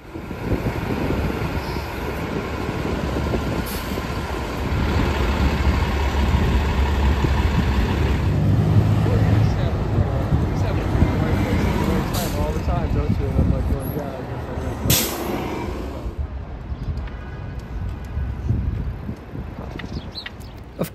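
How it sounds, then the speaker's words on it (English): A cherry blossom themed city bus in Washington DC rumbles with a low, steady engine idle close by, then a brief sharp hiss of air brakes releasing near the end, with voices faintly in the background. "On the special cherry blossom bus."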